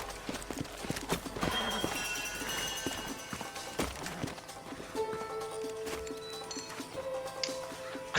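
Horse hooves clip-clopping and a whinny in the video game Red Dead Redemption, with rhythmic hoofbeats slowing over several seconds, then tonal game sounds as the horse settles.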